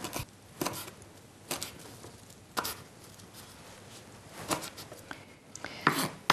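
Knife chopping a small handful of fresh rosemary on a board, a sparse run of sharp, irregular taps spaced about a second apart, close and fairly quiet, with no talking.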